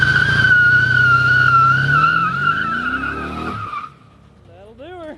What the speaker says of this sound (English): It's time to test and see if our both tires turn over and make sure our Posi Traction is working.